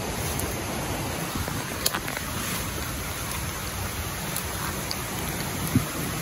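A creek flows steadily nearby, a constant broadband wash of running water with a few faint clicks and no voices.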